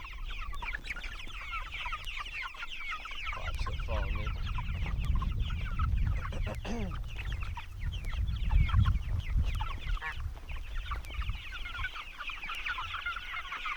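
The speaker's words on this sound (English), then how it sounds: "And then you got the rowdy meat birds." Rowdy meat chickens cluck loudly and continuously in a garden paddock close by, and someone speaks briefly over the flock.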